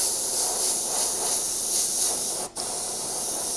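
Steady airbrush hiss blowing air to dry paint on an airbrushed clown mask, continuous and close, with one brief cut-off near the end before the spray resumes.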